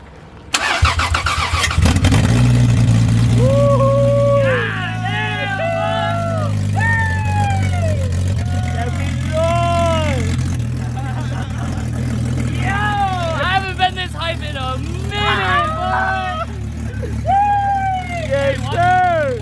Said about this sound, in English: I took the EFI fuse out just so that we can crank it a couple times, get some oil pressure going